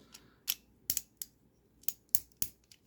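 A Tonka Super Go-Bots Cy-Kill toy figure's joints give sharp, dry plastic clicks, about eight of them spaced irregularly, close up in a quiet room.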